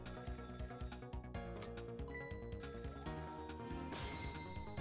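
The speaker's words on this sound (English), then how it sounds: "The phone is ringing." A telephone rings in the video game Ghost Trick, its repeated ringing faint and set within a continuous layer of game music, with no talk.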